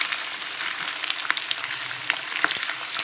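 Garlic and curry leaves fry in hot oil for churumuri, giving a steady bright sizzle with occasional sharp pops and crackles up close. No one speaks over it.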